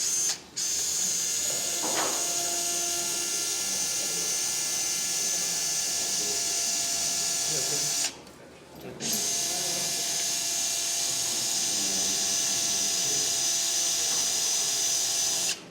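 A surgical drill bores into a soft saw bone in a bone lab with a sustained high whine that runs almost steadily, pausing briefly near the start and again near the middle before resuming.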